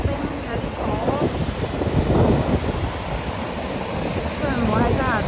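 Niagara Falls near Buffalo, watched from the US side in icy winter conditions, a broad steady roar of falling water mixed with gusting wind buffeting the microphone, with people talking over it.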